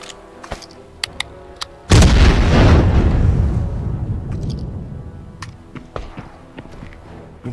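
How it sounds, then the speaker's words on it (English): A single heavy grenade blast in the ExfilZone shooter game booms in at once, loud and close, then rumbles and decays for several seconds, with faint scattered taps and footsteps before and after. "Grenades are coming in."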